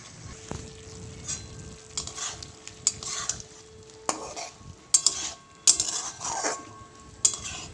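Chopped capsicum fries with chicken in a pan, a soft sizzle broken by repeated scrapes and clinks of a spoon stirring against the metal, close and fairly quiet.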